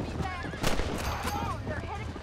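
Gunfire at a coyote in Red Dead Redemption, a sharp gunshot crack with another shot after it, set against busy game ambience and animal calls, with a voice talking over it.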